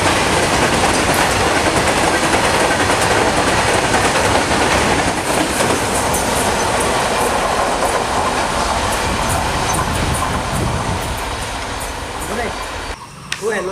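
A train passes close by, loud clattering wheels and rumbling railcars running continuously before easing off toward the end.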